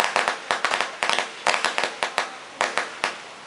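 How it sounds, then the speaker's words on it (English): Fireworks and firecrackers set off on a beach: a dense string of sharp crackling pops going off in rapid irregular bursts, loud and close. "Everybody's shooting off fireworks."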